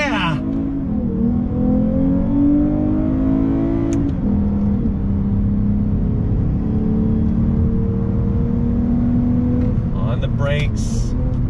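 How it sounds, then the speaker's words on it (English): A 2021 Lexus IS350 F Sport sedan with a V6 pulls away from a dead stop under throttle, the engine note climbing through a gear, easing, then rising again, loud and close, with a voice talking over it. "Dead stop, on throttle acceleration, feeding the throttle, release, here we go."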